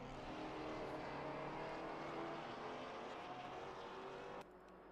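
A Maserati race car at Bathurst in a racing video game howls at high revs, a continuous engine wail that drops off abruptly near the end, with no talking over it.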